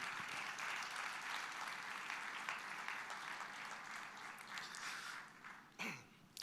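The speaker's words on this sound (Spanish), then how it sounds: "De ese aplauso de alabanza al Señor." A church congregation gives a round of praise applause to the Lord, a faint, distant patter of many hands that holds steady, then tapers off with a few scattered claps near the end.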